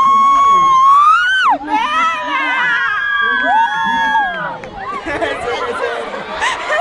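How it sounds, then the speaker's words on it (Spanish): Crowd at a Mercedarian school student-day event cheering and shouting, with children's high voices and chatter throughout, loud and close, while an announcer's amplified voice carries over the noise. "vamos a recibir con un aplauso"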